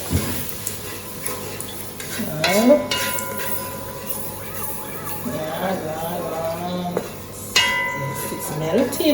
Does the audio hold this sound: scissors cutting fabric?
no